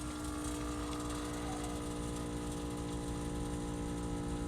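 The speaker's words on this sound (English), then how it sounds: "You can hear the compressor." A LOGIC air bag suspension compressor runs on a GMC 2500HD AT4X AEV pickup, a steady electric motor hum with a strong tonal whine and buzzing rattle, continuous and close with no talking.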